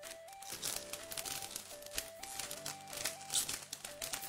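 A Yu-Gi-Oh booster pack wrapper crinkles and crackles in close, irregular bursts over faint background music.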